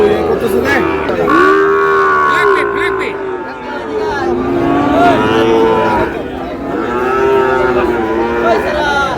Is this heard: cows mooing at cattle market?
yes